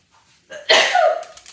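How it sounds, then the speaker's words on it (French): A single sharp sneeze from a woman while making Easter decorations, a brief intake followed by a loud burst that trails off, close by and alone. "J'ai éternué"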